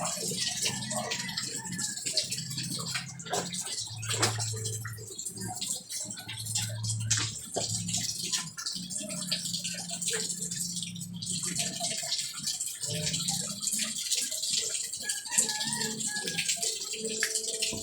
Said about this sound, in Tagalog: Ang hina ng tubig.